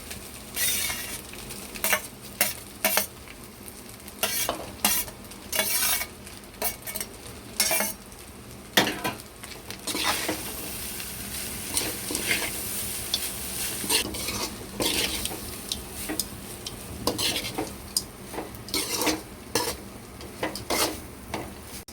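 Cooked rice is stirred into pepper rice in a pan, with a spoon repeatedly scraping and clinking against the metal in an uneven rhythm over a soft background sizzle, close and clear, with no voices.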